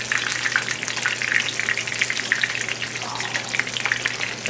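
Sliced zucchini sits covered in hot oil in a pan, sizzling and popping steadily at close range with no voices.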